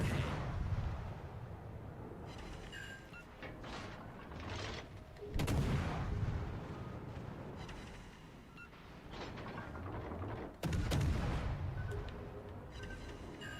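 Battleship gunfire in the naval video game World of Warships: Legends: three heavy booming salvos land several seconds apart, each a deep blast with a long rumbling tail, between quieter low ambient rumble and clatter.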